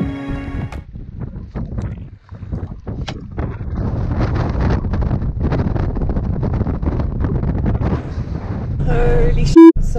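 Strong wind roars and buffets the microphone at a mountain pass in County Kerry, Ireland. The gusts are loud and continuous, with a few thumps and a brief tone near the end.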